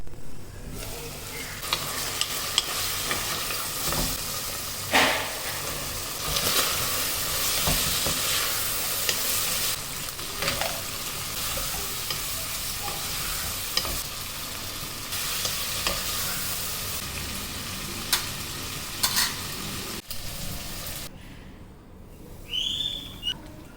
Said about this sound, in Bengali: আর এদিকে বিফ সিজলিংটা করে নিচ্ছি।